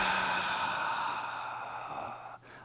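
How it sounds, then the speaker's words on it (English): Deep breathing during a hip stretching warm-up, one long, slow, airy exhale fading gradually before a brief pause, heard alone and close. "Inhale as deep as you can. And exhale."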